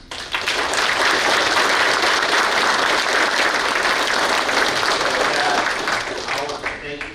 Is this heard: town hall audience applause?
yes